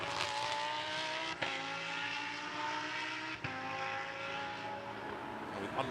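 A Lamborghini Super Trofeo race car passes on the Sepang circuit, climbing toward turn 9 with a loud, steady, high-revving engine drone and two quick gear-change dips.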